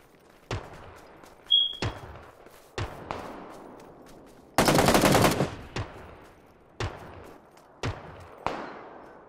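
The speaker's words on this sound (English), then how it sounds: "That's his teammate shooting." Gunfire from a teammate in PUBG rings out as sharp single shots spaced a second or so apart, with one dense burst of rapid fire in the middle, moderately distant and echoing.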